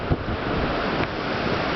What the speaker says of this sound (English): But it sure is windy up here.